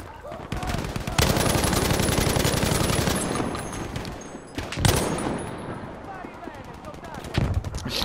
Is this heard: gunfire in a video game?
yes